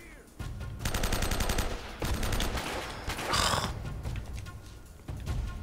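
Rapid bursts of M4 rifle fire in Uncharted: Drake's Fortune, several sustained volleys at moderate loudness with short gaps between them, amid game action.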